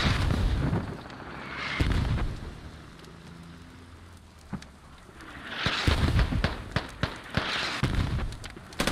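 Mortar smoke rounds fired in a military shooter game, heard as several muffled booms and sharp cracks with a hissing, rain-like wash between them, some near and loud, others farther off.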